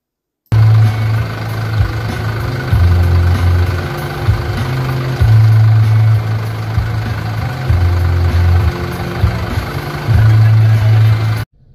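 Mercedes Sprinter van on a test drive after an automatic transmission service, its engine a close, low, steady drone that rises and falls in pitch in several stepped surges before cutting off abruptly.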